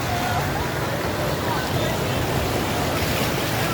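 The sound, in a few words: floodwater rushing in Sialkot after heavy rainfall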